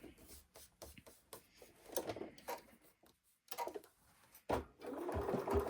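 A domestic sewing machine runs in short bursts, stitching scraps of fabric as a leader before sewing diagonal points, with stop-start whirring and brief pauses between runs, close and fairly quiet.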